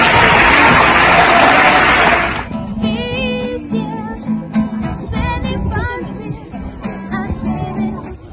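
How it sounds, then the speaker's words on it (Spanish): Party guests burst into loud applause for Alberto, a dense wash of clapping for about two seconds. It then drops away into music with voices. "Así que un fuerte aplauso para Alberto."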